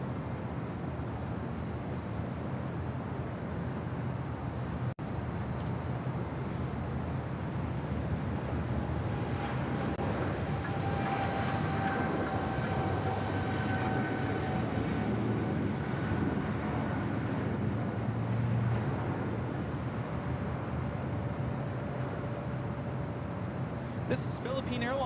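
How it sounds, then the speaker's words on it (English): A Philippine Airlines Boeing 777-300ER takes off from runway 25 Right at LAX, bound for Manila, with a steady, distant broadband roar that holds throughout, blended with wind noise and faint voices beneath it. "This is Philippine Airlines Flight 113 taking off to Manila on the 777-300ER."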